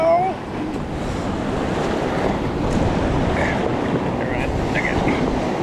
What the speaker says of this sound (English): I'm mainly just aiming for the biggest waves.